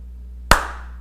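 A single sharp hand clap marking the start of a recording, loud and close, with a short decaying ring in a quiet room after a low steady hum.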